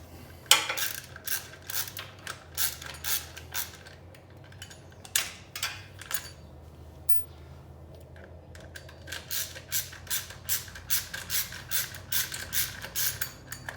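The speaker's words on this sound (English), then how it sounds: "So we're gonna go ahead and take these bolts out." Hand tools work the bolts loose on a Yamaha Raptor 700 ATV, with repeated metallic clicks and ratcheting bursts in close, uneven runs, a pause midway, then a steady rhythmic series of clicks.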